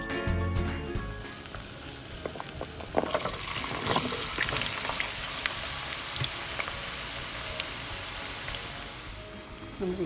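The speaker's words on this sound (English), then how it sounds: "I'm going to start frying up the potatoes." Food sizzles steadily in a hot pan, crackling and popping, with a brief clatter early on as the frying intensifies.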